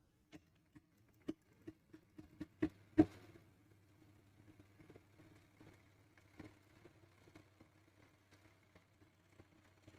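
A sewing machine stitching fabric in a straight seam: a few sharp isolated clicks, then a faint steady mechanical whir dotted with quick ticking as the needle runs.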